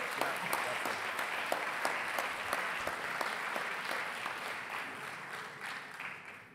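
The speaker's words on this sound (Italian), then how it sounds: "un applauso meritatissimo" A crowd applauds steadily at a Vivaldi festival opening and exhibition, dense clapping with a few sharp claps standing out, gradually thinning and fading toward the end.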